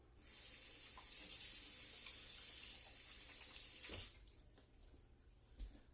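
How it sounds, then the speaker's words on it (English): A kitchen tap runs steadily for about four seconds while hands are washed beneath it, a close, even hiss of water that then cuts off, leaving soft handling noises. "I'm going to wash my hands too."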